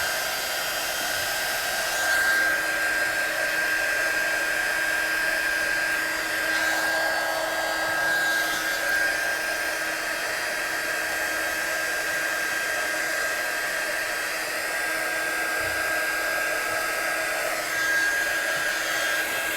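A hair dryer blowing continuously and evenly for nearly twenty seconds, close and steady, used to dry a watercoloured stamped Christmas card.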